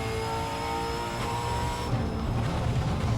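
Ford FG Falcon engine droning steadily on a hill climb, loud and close, with a slight shift in tone as it short-shifts into fifth gear. No voices are heard.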